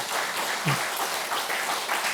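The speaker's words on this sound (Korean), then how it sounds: "우리 한영의 박수, 감사의 박수 하겠습니다." Applause from a church congregation during a Sunday service, standing to welcome and thank a newly arrived retired pastor; a steady, moderately near wash of clapping with no talk.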